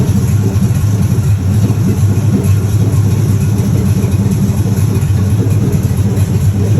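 A 1967 Pontiac Firebird engine running steadily with a low, even idle rumble, up close and unbroken, with no audible gear changes from its TH350 automatic transmission.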